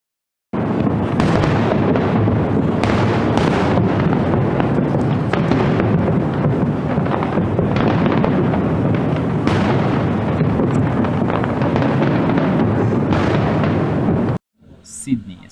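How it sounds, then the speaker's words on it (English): Fireworks explode over Sydney in a continuous, loud barrage of booms and crackles that lasts about fourteen seconds and then cuts off abruptly. "watched the fireworks"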